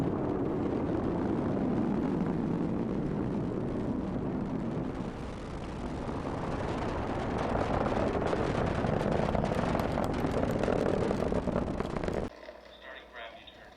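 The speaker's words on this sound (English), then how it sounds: "Liftoff of Falcon 9. Falcon 9 has cleared the tower." A Falcon 9 rocket lifting off roars in a deep, broad rumble that builds and swells steadily, then drops away sharply near the end.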